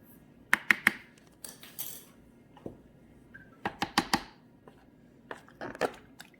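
Hummus being stirred in a bowl, a utensil clinking and tapping against the sides in short irregular clusters, close and fairly quiet.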